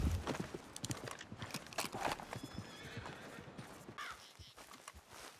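Horse whinnying and hooves clip-clopping in Red Dead Redemption 2, close and loud with a rough, rising whinny over steady hoofbeats, then a few cawing bird calls near the end.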